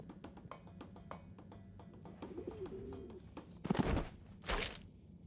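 A pet bird coos softly in the video game Harold Halibut, one brief warbling call set among faint ticking and clicks, followed by louder bursts of noise.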